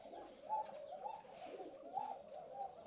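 Soft, repeated cooing of pigeons in a low rolling rhythm at a pigeon farm during vaccination, fairly quiet and close, with faint chirps above and no talking.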